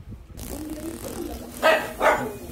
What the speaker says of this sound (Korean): 나를 격하게 반겨주는 강아지